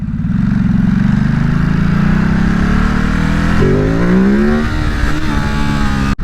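Ducati Supersport 950 engine revving hard in first gear for a wheelie, a loud, sustained roar that climbs steadily in pitch, then shifts and rises again before cutting off abruptly, close up with no talking.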